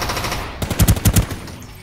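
Gunfire in the online shooter R.O.E. (Ring of Elysium) during a fight at the hidden factory on Europa Island: a brief lull, then a tight, loud string of about five rapid shots that trails off into quiet.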